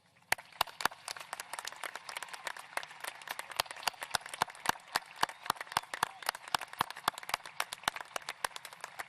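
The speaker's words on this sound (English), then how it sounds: "please show your applause for the best staff in Knox County schools" An audience at a Gibbs High School graduation claps for Knox County school staff, with many sharp, separate hand claps in an uneven, sustained patter that sounds sparse rather than thunderous.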